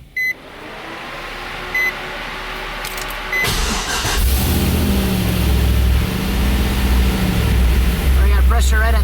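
An LS V8 swapped into a Nissan 350Z cranks and fires up, settling into a loud, rumbling idle up close after a few warning beeps, with someone talking briefly at the start.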